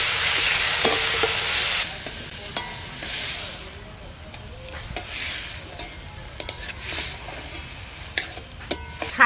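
Onion, ginger, tomato, carrot and green chilli tipped into a hot frying pan give a loud sizzle, then steady frying hiss with intermittent stirring scrapes and clinks.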